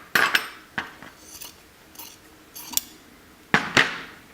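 Scissors cutting a square of fabric for a baby toy, several sharp metallic snips spaced irregularly, close and crisp, with no talking.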